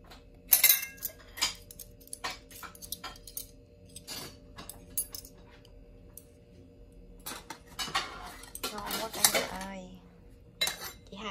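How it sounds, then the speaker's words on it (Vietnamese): Stir-fried glass noodles with tofu are served from a pan onto a plate, giving scattered clinks and scrapes of utensils against dishes, separated by quiet gaps, with brief talking in places. "Bây giờ mình sẽ gắp ra cái dĩa."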